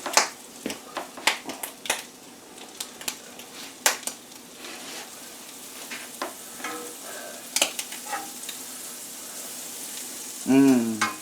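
Bread and butter frying in a cast iron pan for a brunch omelette in bread, with soft sizzling broken by frequent sharp clicks and scrapes of a utensil, and a brief voice near the end.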